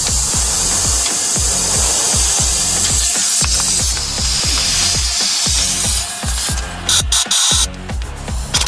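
Rapid ratchet clicks tighten the bolts on a Nissan Rogue axle during a CV axle replacement, in steady repeated bursts of loud, close pawl clicking with a brief spray-like hiss near the end.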